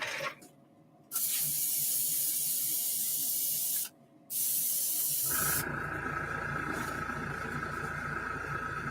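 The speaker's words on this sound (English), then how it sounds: "I just finished airbrushing, so I'm doing cleanup now." Airbrush spraying during cleanup in a paint booth, bursts of hissing spray broken by two short pauses, then a steadier, softer hiss with a faint tone.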